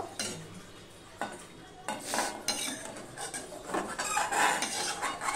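Fried flat beans are scooped from a pan into a bowl, with close metal scraping and clattering of the utensil against cookware in uneven bursts.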